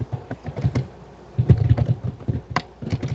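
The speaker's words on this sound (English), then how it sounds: "I hear someone typing away vigorously" Rapid, irregular clacking of keys on a computer keyboard, bursts of typing with short pauses between, close and fairly clear.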